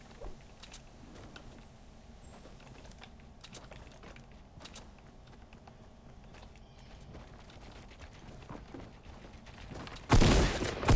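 Video game gunfire crackles as sparse, faint distant shots over low background noise, then a single loud, close burst erupts near the end.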